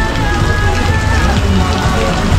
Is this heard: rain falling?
yes